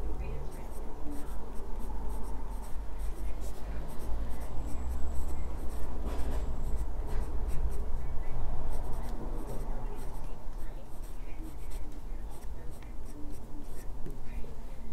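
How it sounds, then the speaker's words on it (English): A Sailor Lecoule Morion fountain pen with a fine Sailor steel nib writes on Rhodia paper, giving a steady close-up scratching of nib on paper with short strokes and brief pauses throughout. "let's have a look at how this pen writes using my Rhodia paper"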